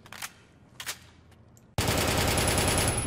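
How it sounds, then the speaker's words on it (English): Gunfire aimed at zombie pigmen in a Minecraft Battlefield mod, starting with two isolated shots and then breaking into a loud, continuous machine-gun stream of rapid fire that holds steady to the end. "So let's shoot the zombie pigmen."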